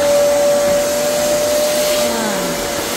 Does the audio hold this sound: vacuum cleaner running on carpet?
yes